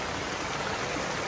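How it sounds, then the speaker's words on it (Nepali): Heavy rain falling at a school, a dense steady hiss of rain and running water filling the whole moment, with no voices. "त्यहाँको पानीले परिरहेको छ"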